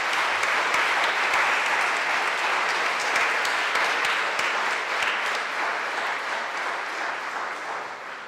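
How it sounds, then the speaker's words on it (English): A church congregation applauds the choir after a Sunday service, with sustained, dense clapping throughout that fades slightly toward the end. "So could we give them a massive round of applause, please?"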